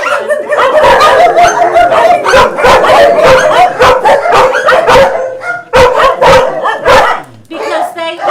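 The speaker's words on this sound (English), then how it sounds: "this is an area where you're going to see most of the dogs who live on this side of the building" Dogs bark repeatedly at an animal shelter, with loud, close, overlapping barks and yips in quick irregular bursts, some whimpering, and a voice talking among them.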